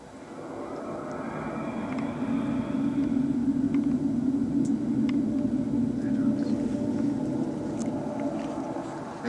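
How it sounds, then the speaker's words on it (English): Planet ambience from the film Colony: a steady, low, droning rumble like distant wind or machinery, broad and constant, with faint scattered high ticks and whistles over it. "that's the sound of the planet at this particular point in the film"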